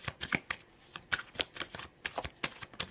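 Tarot cards are shuffled close up in a quick run of crisp riffling flicks and soft slaps, irregular bursts over about three seconds with no voice.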